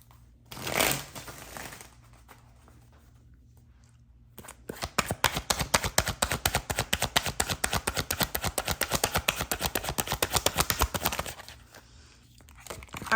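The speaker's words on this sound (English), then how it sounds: "One more shuffle." A tarot card deck being shuffled: a single faint rustle, a pause, then a long, steady run of rapid riffling card flutters that stops abruptly near the end.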